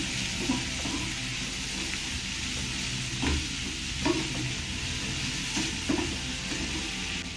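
Paneer cubes roast in masala in a pan, a steady close sizzle broken by regular scraping stirs of a spatula about every second, moderately loud with no voices.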